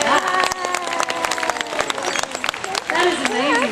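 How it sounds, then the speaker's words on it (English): Zoo audience at a seal show applauds in a brief burst of scattered clapping, heard under a presenter's voice talking over the crowd. "give Gordo a round of applause"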